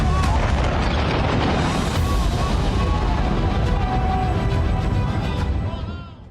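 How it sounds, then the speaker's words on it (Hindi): Bombing explosions in Iran from news report footage: a dense, continuous roar of loud blasts and rumbling that holds steady for several seconds before fading at the end. "बमबारी हुई और ईरान में बर्बादी का मंजर दिखा।"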